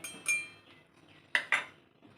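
Metal utensils clink against a bowl while varagu rice flour is mixed with rice flour, a few sharp isolated chinks separated by quiet scraping, close and fairly soft.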